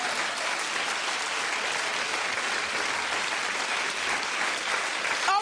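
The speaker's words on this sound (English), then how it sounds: "keep clapping" A studio audience at a television talk show applauds continuously, a dense, even wash of clapping that holds steady for several seconds.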